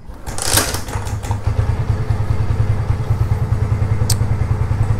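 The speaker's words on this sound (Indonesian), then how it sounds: "Nyalakan dulu mesinnya." A Honda Tiger motorcycle engine cranks and fires, then settles into a steady, close, even idle thump, alone with no talking.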